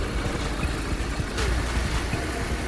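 A 2011 Jeep Patriot's 2.4-litre variable valve timing four-cylinder idles steadily with the hood up, a constant low engine hum with no revving and no talk.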